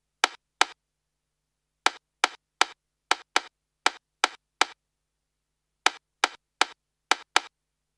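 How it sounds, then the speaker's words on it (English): Sharp stick clicks with a short reverb tail play in irregular groups, about fifteen hits separated by dead silence after gaps are removed in Logic Pro, close and crisp. "my sticky reverb sound sounds like this."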